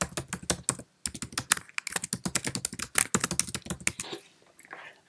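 Rapid bursts of keystrokes on a Mac computer keyboard as a PowerPoint slide title is typed, close and crisp, with short pauses between clusters of clicks and no talking.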